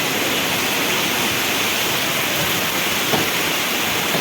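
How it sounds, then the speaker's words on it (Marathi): Heavy monsoon rain pours down in Konkan, Raigad, a dense, loud, continuous roar of rainfall and running water that fills the whole clip with no letup. "खूप जोरात असा पाऊस चालू आहे"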